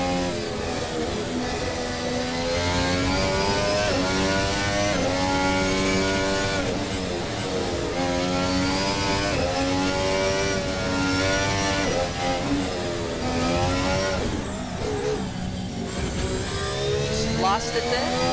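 A Formula race car in a racing sim screams through its gears, pitch climbing and dropping with each shift over a long, loud run, with a voice talking underneath at times.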